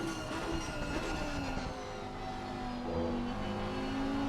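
A McLaren GT3 race car at Bathurst in Assetto Corsa Competizione drones steadily under a rising and falling engine tone, sustained and fairly loud with no pauses throughout.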